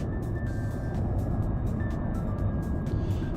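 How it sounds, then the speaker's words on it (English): A refueling truck engine in the X-Plane 12 flight simulator idles steadily with a deep rumble, joined by faint intermittent high beeps. "Refueling truck."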